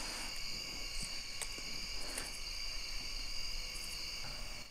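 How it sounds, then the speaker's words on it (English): Crickets chirping steadily and clearly outdoors, a dense high-pitched trill that continues throughout without any talking. "the crickets are nice and clear and loud."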